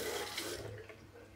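A short, fairly quiet splash of tap water running steadily for about a second and a half, with no voices.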